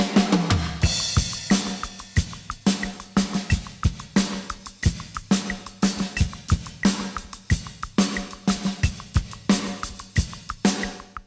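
Full drum kit grooving steadily at 90 beats per minute, punchy kick and snare hits in a repeating pattern with washy cymbals throughout, close and loud, no voices.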